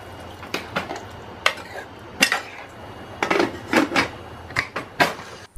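A pressure cooker lid is fitted and closed over a pea curry with coriander and water, giving a string of close metallic clanks, scrapes and clatters from the pot, irregular and sharp, with no talking.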